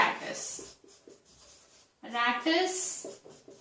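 A teacher writes on a board during a biology lesson, giving soft rubbing strokes with short pauses at a moderate distance, followed by someone talking.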